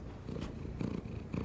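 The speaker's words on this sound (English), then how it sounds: "That sound is purring, and it says that a cat is feeling happy." A cat purring close by, a soft low rumbling motor that swells in slow rhythmic pulses with each breath, quiet and steady with no voices over it.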